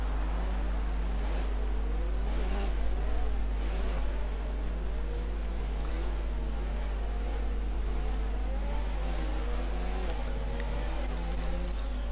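Race cars in a racing video game accelerating as the safety car comes in, a steady droning engine whine with rising and falling revs over a constant low rumble, with no talking.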